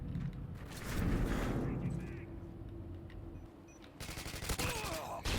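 A TAR-21 assault rifle in Call of Duty: Modern Warfare 2 fires in rapid automatic bursts with dense, clattering shots and rumbling low-end noise, pausing briefly before another volley near the end.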